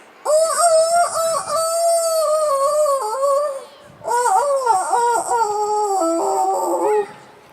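Rooster crowing: two long, loud, drawn-out calls with wavering, strained pitch, the first running about three seconds and the second, after a brief gap, slightly longer, heard alone without talk.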